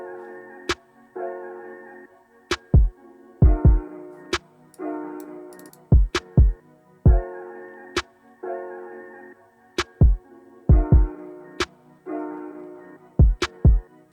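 Programmed kick and snare drum beat built in Studio One, alternating sharp, punchy hits in a sparse, even rhythm with silence between strikes and no voices.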